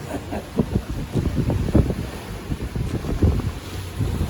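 Strong wind of about 17 knots buffets the microphone while waves slosh and thump against a sailboat moving at about 8.5 knots, a steady rushing roar with irregular splashes.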